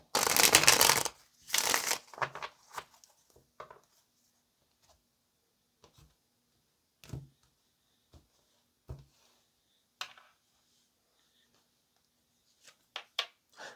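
Tarot cards being shuffled up close, a brisk riffle of flapping bursts at first, then scattered soft taps and slides of cards in near silence.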